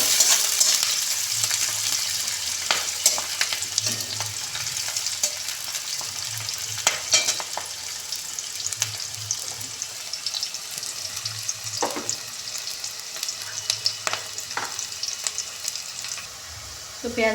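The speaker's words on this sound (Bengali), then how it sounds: "পেঁয়াজটা একটু ভাজবো" Chopped onions fry over a lowered flame in a pan for a spicy dried-fish curry, giving a crackling sizzle with occasional stirring scrapes and clatters throughout.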